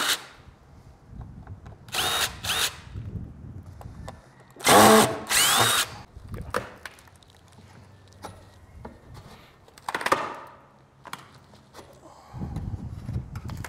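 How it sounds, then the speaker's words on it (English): A power drill fitted with a square-head bit backs screws out of an exterior door frame in several short, loud whirring bursts, with quiet handling noises between them and a little low talk nearby. "So I need to find a square head bit to get those out."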